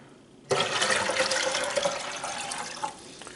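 Vinegar is poured steadily into the water reservoir of a Keurig K-Cup coffee maker, a close, continuous splashing pour that starts abruptly and runs for a few seconds before tapering off.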